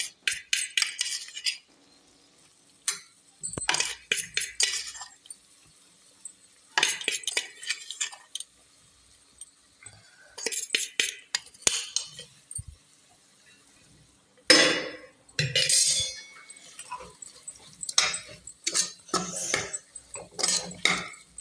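Utensil scraping and clinking against a pot while vegetable biryani, seasoned with sambar powder, is stirred and spread out, coming in repeated bursts with short pauses between them.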